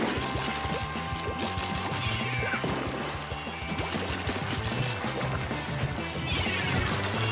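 Ink sprays and splatters during a Splatoon 2 match played with the Ink Brush, dense wet splashing and squelching bursts layered over busy game sounds and music, continuing steadily throughout.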